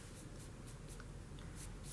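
A pencil sketching a flying falcon on paper: faint, quick, rhythmic scratching strokes repeat steadily over a soft hiss, with no voices.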